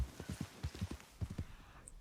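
Hooves of a slower, standard-handling horse in Red Dead Redemption clip-clop in a steady, even gallop rhythm, close and fairly loud, with no other sounds competing.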